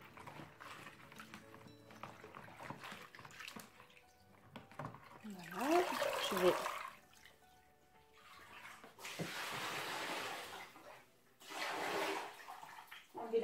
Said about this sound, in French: Je rince rapidement, pas besoin de le laisser tremper